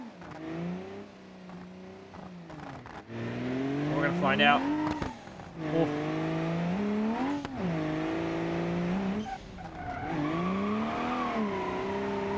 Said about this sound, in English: we're going to go full send for the jump drift